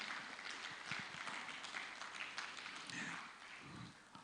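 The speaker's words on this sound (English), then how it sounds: "Please, can we put our hands together for her one more time?" Audience applause at a geospatial user conference in West Africa, fairly faint and distant clapping from a crowd that continues steadily for around four seconds.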